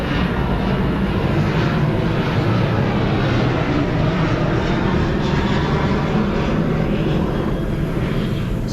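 A loud, steady drone of a propeller airplane engine passing overhead, continuous throughout with no voices.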